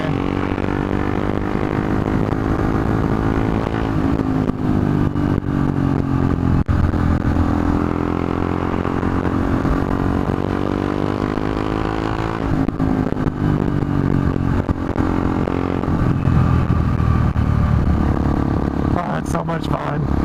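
KTM RC390 and a BMW motorcycle on a ride, with a loud, steady engine drone and wind rush filling the whole stretch and slight pitch rises as the throttle opens.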